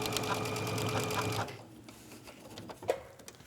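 A sewing machine stitches fabric pleats formed with a fork, running steadily for about a second and a half, then stopping and leaving quiet handling noises with a brief clack near the end.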